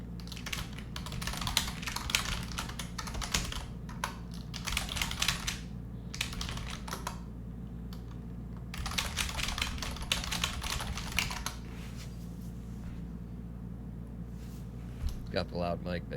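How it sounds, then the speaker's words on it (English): Rapid clacking keystrokes on a loud Razer computer keyboard come in dense bursts separated by short pauses, close and prominent, with a brief voice near the end. "I have The Razer loud as hell keyboard."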